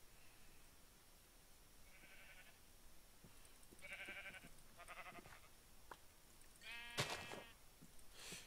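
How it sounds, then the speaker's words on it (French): Sheep in Minecraft bleat several times, short nasal calls spaced across the stretch over a faint background, with a louder, brighter bleat near the end. "Oh, des moutons."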